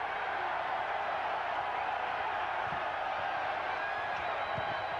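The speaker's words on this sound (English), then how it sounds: "Crowd electrified at the Omni now." A basketball arena crowd at the Omni in Atlanta, during a 1996 North Carolina at Georgia Tech college game, roars in a sustained, steady wash of cheering, loud and continuous with a few scattered thumps.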